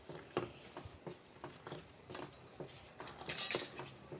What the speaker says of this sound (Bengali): দুধটাকে দিয়ে আমি খুব চামচ দিয়ে ভালোভাবে নেড়ে চেড়ে মিশিয়ে নেব